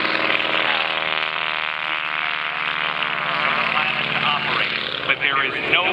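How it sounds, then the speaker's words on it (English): A stock Stearman biplane engine drones steadily during an aerobatic display, a rough, harmonic-rich radial roar with shifting pitch, loud and sustained, with a brief dip near the end. "The stock Stearman biplane."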